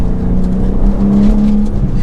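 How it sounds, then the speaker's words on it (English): A 2023 BMW M2 with the twin-turbo inline-six S58 engine pulling under acceleration, a loud, close, steady drone with a brief rise in pitch. "The S58 motor with the twin turbo inline 6, it is powerful."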